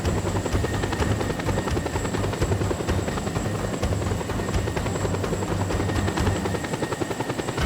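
A helicopter in the Just Cause 2 video game roars continuously up close, its rotor chopping in a steady fast pulse under a dense engine whine, loud and unbroken throughout.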